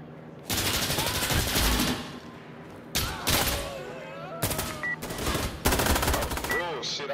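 Sustained automatic gunfire in Insurgency: Sandstorm played on PS5, loud close bursts of rapid fire broken by short pauses, with a voice talking over the shooting.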